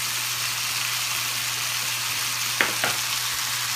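Ginger and garlic sizzle steadily in a hot pan with oil, a continuous crackling hiss broken late by two short scraping stirs.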